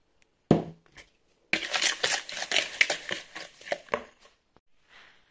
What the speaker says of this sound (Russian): Яйца собьем с сахаром.